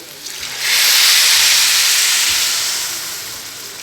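Water poured into a hot pan of browned rice with spices and onion bursts into a loud steaming hiss that swells quickly, holds, then slowly eases off, with no talking.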